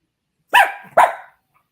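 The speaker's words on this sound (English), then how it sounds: "I hate this dog. It's the worst dog ever." A dog gives two sharp, loud barks close by, about half a second apart, followed by silence.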